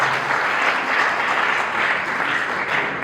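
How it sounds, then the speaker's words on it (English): A crowd at an International Day of the Girl Child event gives a warm round of applause, loud, dense and steady throughout, a continuous wash of many hands clapping with no voices. "Please, let's give him a round of applause."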